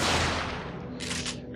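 A shotgun fires buckshot in Parasite Eve II, a single loud close blast that decays over a second, followed by a brief mechanical rattle.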